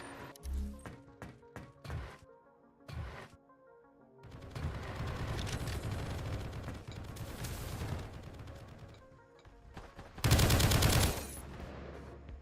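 Turret gunfire in the video game Project Onyx, several short bursts of rapid shots, then a longer stretch of continuous fire and a final loud blast, all fairly close.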